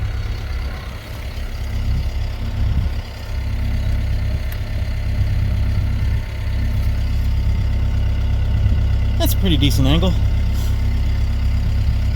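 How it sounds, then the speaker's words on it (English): Ventrac tractor stuck on a slope near a tree, its engine idling with a steady low drone throughout, someone talking over it. "Tractor's just idling. I'm not even revving it up to go."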